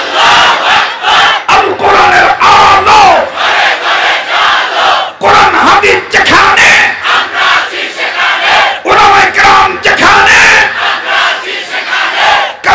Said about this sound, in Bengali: এবার সামনের ভাইরা পিছনের ভাইরা মিলে জিলে নারায়ে তাকবীর।